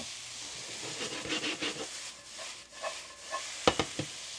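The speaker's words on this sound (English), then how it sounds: "we're going to cook them until that onions become clear" Onions cooking in a hot HexClad pan give a soft, steady hiss and sizzle, with faint stirring and scraping and a few sharper clicks of a utensil near the end.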